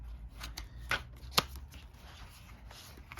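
Stiff trivia cards from a worst-case scenario survival board game are riffled and shuffled in a steady run of soft flicks, with two sharper snaps standing out, close and fairly quiet.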